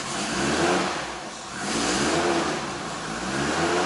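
A Nissan R32 Skyline engine is held up with throttle pulses, loud and close, the revs rising and falling in broad waves with no talking.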